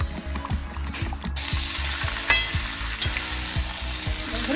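A paste of ground ginger, mustard, coriander and cashew frying in a pan for a coconut-milk shukto: a steady close sizzle with rhythmic scraping strokes of a stirring spoon, loud and continuous, with no talking.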